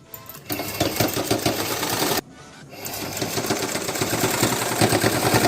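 A sewing machine runs a line of stitching beside blouse piping with a loud, busy mechanical whir, pauses briefly, then starts up again and keeps running.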